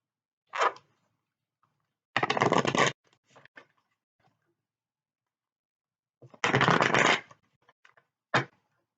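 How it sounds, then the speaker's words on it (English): Tarot cards riffle-shuffled by hand in two distinct bursts of brisk, papery flutter, each lasting under a second, with a few soft taps and card clicks between them in a quiet room. "I pre-shuffled, but I'm going to shuffle again."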